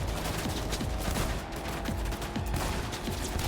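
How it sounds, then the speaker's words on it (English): Rapid gunfire in the video game Cyberpunk 2077, a steady dense volley of shots at an enemy with no pauses over a loud, busy background. "I'm shooting the dude!"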